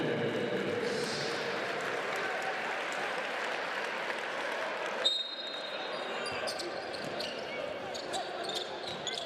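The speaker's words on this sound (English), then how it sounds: "Jacob Pullen going to go to the bench and gets a standing ovation from the crowd" A basketball crowd in a Basketball Champions League arena applauds a player returning to the game, a sustained ovation of clapping and cheering under a commentator's voice, with a sharp bounce or thud midway.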